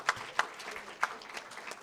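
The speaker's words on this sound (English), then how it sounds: "Kindly give them a very big applause." Scattered clapping at a golden jubilee celebration: a few distinct, fairly close hand claps ring out over a soft, thin background of lighter applause.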